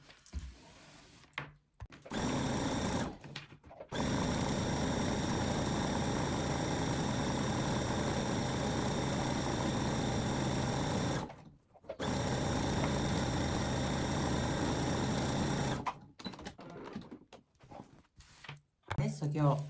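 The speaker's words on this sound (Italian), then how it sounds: "andate a cucire vicino al bordo, così questa starà ben ferma giù." Sewing machine stitching close to the edge of fabric for a Christmas fabric house, a loud steady mechanical run in two long stretches separated by brief pauses, with handling noise at the start and end.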